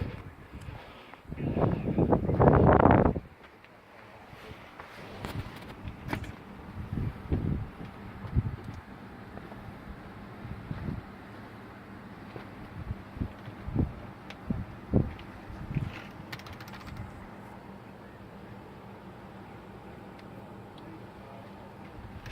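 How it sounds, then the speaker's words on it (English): Wind at a hilltop amateur radio contest station, with a heavy gust buffeting the microphone early on, then lighter gusts, rumbles and scattered thumps over low steady noise. "It's quite windy up here, so I know you can hear all the wind"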